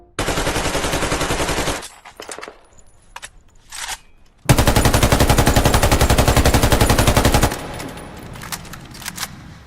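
Loud bursts of rapid automatic gunfire from the video game Metro, two long volleys with a few single shots and clicks between.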